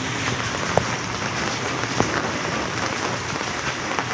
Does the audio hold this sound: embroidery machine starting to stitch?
no